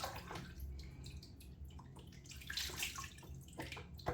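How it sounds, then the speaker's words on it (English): Running water splashes and gurgles from a tap as a shaving razor is rinsed, a continuous close wash with small drips and splashes. "I'm trying to rinse this."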